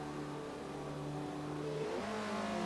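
A race car engine idles steadily on the starting grid at Le Mans in a racing video game, then revs up as it is put into first gear, the pitch rising and shifting near the end; loud and close, with no talk.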